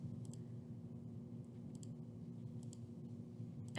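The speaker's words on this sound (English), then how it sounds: "And I'm just holding shift and clicking." Sharp little mouse clicks sound at a slow, uneven pace, a few single and double clicks over a quiet background hum.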